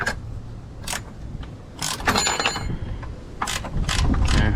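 Ratcheting clicks from a wrench turning a bolt on the front upper control arm of a 2008 Mercedes S550, heard as short bursts of rapid clicking separated by pauses, close and clear.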